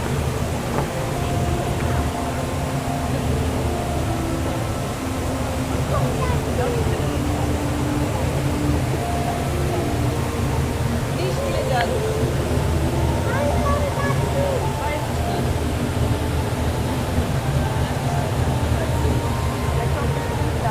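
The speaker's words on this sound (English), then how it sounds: "So this is a good vantage point to look at the world's largest indoor waterfall." The world's largest indoor waterfall, the Rain Vortex at Jewel Changi Airport, roars in a steady, broad rushing wash of falling water, with faint voices and crowd murmur in the background.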